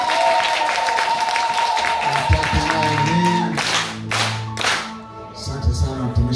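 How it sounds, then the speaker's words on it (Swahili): A church congregation at a Sunday morning service clapping loudly and steadily, with a few thumps and tones of music joining toward the end. "Mshangilieni tena Bwana, makofi mengi."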